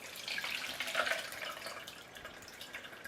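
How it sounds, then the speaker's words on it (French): Whey draining from freshly made cheese poured into a colander, a soft steady trickle and dripping of liquid, fairly quiet and continuous throughout. "on va le vider dans une passoire d'abord pour éliminer le plus gros du petit lait"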